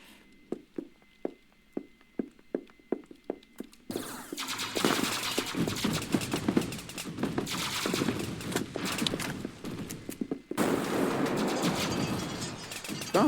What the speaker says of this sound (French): Oh ouais, là t'as tiré avec le fusil à pompe.